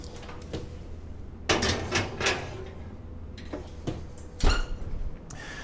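A 7-Up cake pan slid onto the middle rack of an oven, with metallic clanks, a rattle and squeaky scraping of the rack, then a final thud.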